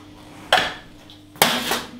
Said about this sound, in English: I'll put my rhubarb into the saucepan.